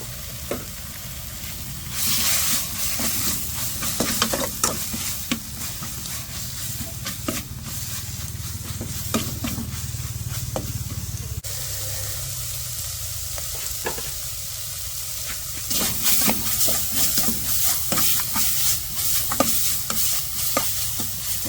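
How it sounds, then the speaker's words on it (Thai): Pork belly stir-fries in a hot pan for a long stretch, with a loud, steady sizzle, frequent scraping and tossing strokes up close, and no voices. "หมูสามชั้นของเขานะครับ ใส่ลงไปเลย"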